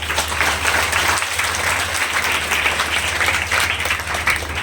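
Audience applause at a Hindi poetry gathering (kavi sammelan): loud, sustained clapping from a large crowd, even and continuous throughout, with a low steady hum beneath.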